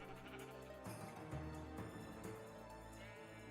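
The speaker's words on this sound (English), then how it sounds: "They sure sound like they're eating pretty regularly." Sheep in modded Minecraft 1.12.2, faint bleating against a quiet background with steady low tones, a few soft overlapping calls over a few seconds.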